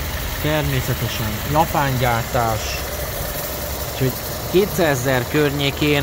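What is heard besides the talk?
Mazda 6 GTA 2.5 engine running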